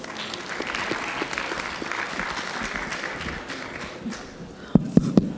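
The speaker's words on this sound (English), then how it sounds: "Round of applause, please." A public forum audience on moderation and the administration of Islam applauds to welcome a speaker. The steady, even clapping spreads through the hall and ends with a few louder, closer claps.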